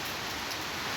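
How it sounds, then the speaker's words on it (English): Steady outdoor rain hisses as a dense, even wash of patter, close and unbroken for the whole second, with no voices. "I just need to come outside and take the cool breeze. You know, as the rain falling and whatnot"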